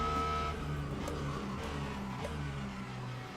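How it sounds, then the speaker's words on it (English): A race car in Le Mans Ultimate drones steadily through the Senna S at Interlagos, its engine tone shifting as it slides through the corner, with faint tyre scrub under the continuous motor. "can really hear it sliding"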